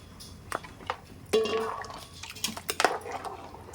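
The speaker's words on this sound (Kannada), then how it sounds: "ಇನ್ನು ಸ್ವಲ್ಪ ಬೇಕಾದರೆ ನೀರು ಹಾಕ್ಕೊಳ್ಳಿ." Water splashes and trickles into a pot of mutton sambar, with a few clinks of metal cookware in between, close by and fairly quiet.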